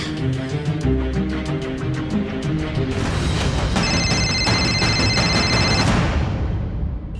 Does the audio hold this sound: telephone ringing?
yes